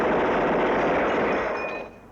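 Sustained automatic weapon gunfire in a horror film, a dense continuous roar of rapid shots, loud and close, tailing off near the end.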